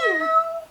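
Talking parrot imitating a cat's meow, giving a single short, coy, high-pitched tonal mew that slides downward and fades within a second.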